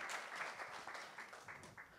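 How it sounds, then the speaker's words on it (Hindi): Faint, busy applause from an audience at a press meet for a television comedy series, a continuous patter of many hands clapping at a distance. "तो ज़ोरदार तालियां हो जाए साराभाई वर्सेस साराभाई"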